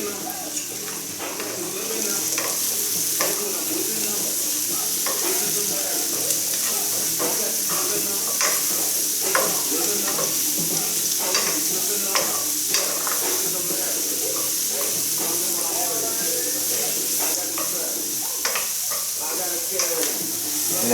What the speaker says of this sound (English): So I'm going to go ahead and give this a stir.